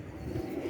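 Soft, quiet cooing from a nearby pigeon, a low murmuring call that repeats a few times against faint background noise, with no voices over it.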